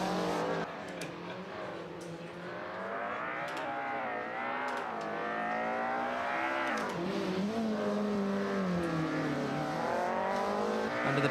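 A race car at the eROC 2022 World Final, ROC Sweden, climbs up through the gears and then drops back down, its engine note rising and falling in pitch, loud and continuous, with a commentator's voice underneath.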